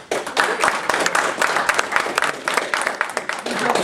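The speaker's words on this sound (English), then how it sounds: "we started clapping" A small group of people at a meeting claps together steadily for several seconds, close and fairly loud, with no voices over the applause.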